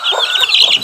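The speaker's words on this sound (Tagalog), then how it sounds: "Ito din yung aking sisiw." Young chicks peep in a quick burst of high, thin calls while waiting to be fed, close and loud, lasting under a second.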